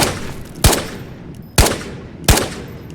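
Three separate single gunshots ring out in the VR shooter Ghosts of Tabor, loud and sharp with a brief echoing tail, evenly spaced about a second apart with nothing else over them.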